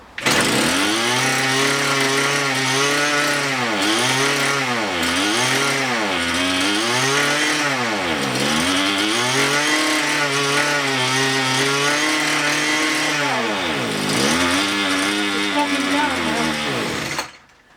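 A petrol strimmer engine runs close and loud, its pitch repeatedly sagging and recovering as it bogs down from a lean air-fuel mixture, continuous until cutting off at the end.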